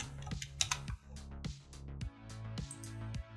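Quick bursts of clicky key presses on a computer keyboard while entering text in a design program, close and crisp, arriving in short uneven runs.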